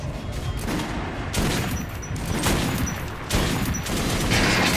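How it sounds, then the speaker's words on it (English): Video-game gunfire in Metro Last Light aimed at an armored training dummy: several loud bursts of rapid shots, each lasting about a second, with short gaps between them and a constant background rumble. "Now shoot the armored dummy"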